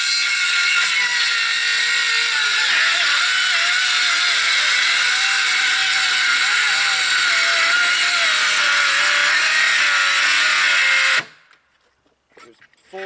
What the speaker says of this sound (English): This saw is way, way better than my other one